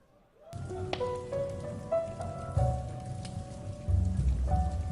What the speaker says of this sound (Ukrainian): Це був дощовий осінній вечір.